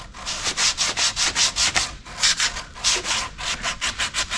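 Filler being sanded smooth on a fiberglass surface, a loud close run of rapid, regular back-and-forth rasping strokes with no talk.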